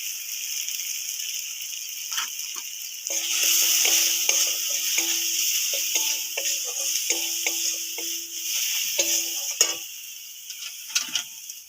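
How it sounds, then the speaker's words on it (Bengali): Spice paste of chili and turmeric powder hisses and sizzles steadily in hot oil, with a spoon scraping and tapping the pan in a rhythmic stirring pattern, fairly close and alone. "মশলাটা ভালো করে কষানো হয়ে গেছে, মশলা থেকে তেল ছেড়ে গেছে।"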